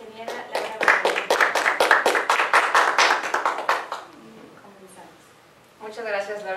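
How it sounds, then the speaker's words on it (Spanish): Audience applause for a speaker at a talk on eco-efficiency and business competitiveness: a loud burst of clapping for about four seconds that fades out, followed by a voice beginning to speak. "Le damos un fuerte aplauso"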